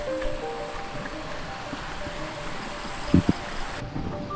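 Steady rushing flow of a shallow river at Deruan Rainbow Campsite on Sungai Gabai, a broadband wash heard close and even, with a couple of brief low knocks near the end and no talking.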